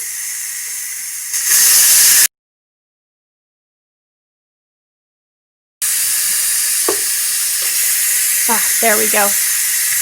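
Pressure cooker valve switched from seal to vent while making chicken pot pie: a loud, steady jet of hissing steam that cuts out abruptly partway through, then resumes with clicks and handling noises and brief talk over it.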